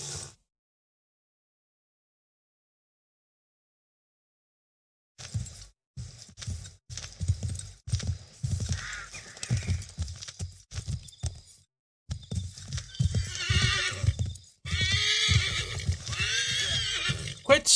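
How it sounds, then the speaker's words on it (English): A horse neighs and its hooves clip-clop at a gallop in Assassin's Creed 3, loud bursts of whinnying and hoofbeats after a silent opening, with brief game sounds and a gap midway. "Oh, there's the horse."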